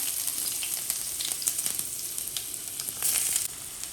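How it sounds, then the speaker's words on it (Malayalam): Ginger and garlic sizzle steadily in hot oil for a fish roast, a dense crackling hiss with frequent small pops and a brief louder burst of spatter near the end, close up with no talking. "അപ്പോൾ ഇനി ഇതിലേക്ക് ഈ ഇഞ്ചിയും വെളുത്തുള്ളിയും കൂടെ ഇട്ട് കൊടുക്കാം"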